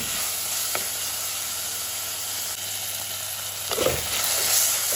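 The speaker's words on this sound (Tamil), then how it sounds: "தக்காளி எல்லாம் வதங்கிறது" Onions and tomatoes sauté in a pan with a steady close sizzle and frying hiss, broken by a few brief stirring clatters near the end, with no voices.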